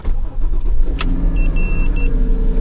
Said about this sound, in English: And let it then go here, and let's start the car.